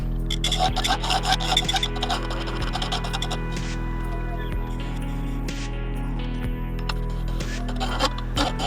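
Steel skew chisel rubbed against a sharpening surface in a woodturning shop, a steady close rasping scrape over a constant low machine hum, with faint clinks scattered through.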